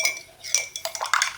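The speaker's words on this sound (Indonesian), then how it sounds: "Kita aduk pelan-pelan" A hand-held utensil stirs coffee, egg and milk together in a container, producing quick rhythmic clinks and scrapes against the sides, close and fairly soft, with no talking.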